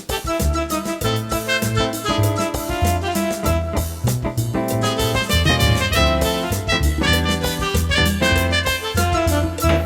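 A Ringway RS760 electronic organ plays over a busy, syncopated Afro-Cuban jazz rhythm, steady and loud throughout with no voices.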